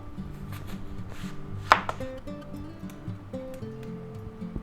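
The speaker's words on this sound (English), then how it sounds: "let's go ahead and slice some nice slices" A sharp knife slicing through an onion on a board, a few crisp cuts with one louder chop near the middle, heard over steady low background music.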